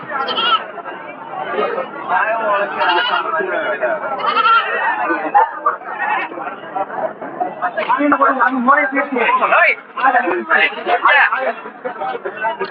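Kanni goats bleat repeatedly at the Saturday weekly market in Ettayapuram, Thoothukudi, their loud, close calls mixed with constant crowd chatter and people talking nearby.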